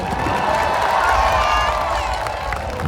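A large outdoor crowd at the Rajkot air show roars and claps in a dense, sustained wash of applause and cheering, with voices mixed in throughout.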